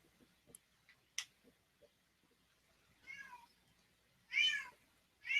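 A male cat crying with three drawn-out, plaintive meows that grow louder and nearer, preceded by faint scattered ticks and clicks in an otherwise quiet room.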